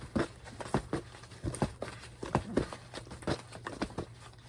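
Paper tickets being mixed by hand in a large box: close, crisp bursts of rustling and tapping in an irregular rhythm over a low steady hum.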